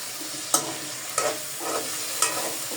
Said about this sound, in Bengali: এখন মাংসগুলোকে সুন্দর করে কষিয়ে নেব।